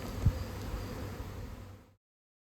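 Honey bees buzz around their hive outdoors in a steady, close droning hum with a few brief louder bumps, fading out near the end.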